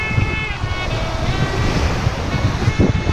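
Waves wash up on a beach in a continuous loud roar of surf, with gusts of wind buffeting the microphone throughout.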